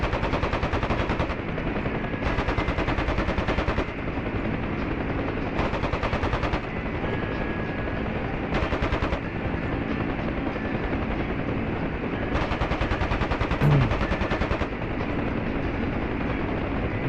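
Helicopter gunship in a flight video game firing its cannon in repeated bursts over a constant loud rotor and engine roar, each burst lasting one to two seconds with short pauses between.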